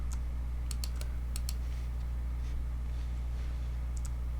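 Sharp computer mouse clicks while retouching skin blemishes with a healing brush in Photoshop, a few isolated clicks and short pairs spaced over several seconds against a steady low hum, with no talking.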